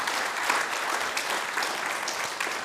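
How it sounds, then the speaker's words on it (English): An audience at a Vyasa Puja gathering in London gives a singer a sustained round of applause, a thick, even patter of many hands carrying on unbroken with a few sharper claps standing out. "Let's give him a big round of applause."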